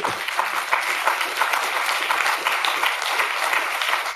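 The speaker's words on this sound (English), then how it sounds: "before you applaud too much" Dense, steady applause from an audience at a lecture by Michael Kirby fills the whole stretch, loud and continuous, with no voice breaking through.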